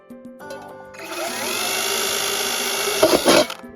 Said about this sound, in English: drill a whole bunch of holes in the very bottom of it